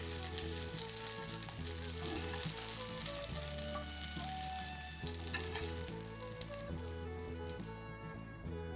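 Oil sizzles and crackles steadily as zucchini fries in a pan, a constant bright hiss, close up with no voices.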